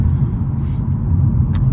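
A Hyundai Elantra N fitted with a Titanium Whoosh Motorsports V2 intake makes a loud, close, steady low engine rumble, with a brief airy whoosh of induction noise partway through and a short hiss near the end.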